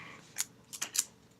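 A piece of tape is pulled off a roll for wrapping a Tootsie Roll tube, giving three short, sharp ripping bursts close up against a quiet background.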